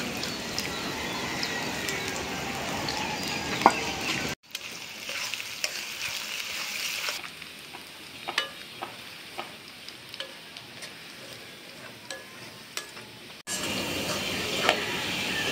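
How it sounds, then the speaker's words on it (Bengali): Onions and green chilies frying in hot oil for a village-style boal fish curry, a steady sizzle with clicks of stirring, broken by quieter stretches where the frying drops away. "তেলটা গরম হয়ে গেছে, এখন দিয়ে দিচ্ছি পেঁয়াজ।"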